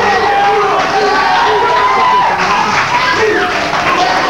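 A studio audience at a comedy talk show claps in a dense, continuous wash of applause, with someone talking over it.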